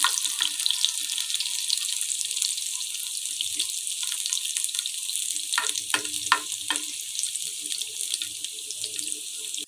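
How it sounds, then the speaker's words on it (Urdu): Garlic cloves fry in hot desi ghee with a steady, fine sizzling hiss, joined around the middle by a few sharper crackles and spits, close and alone with no talking. "ہمارا دیسی گھی گرم ہو گیا ہے۔ اب ہم ڈالیں گے لہسن کی کلیاں،"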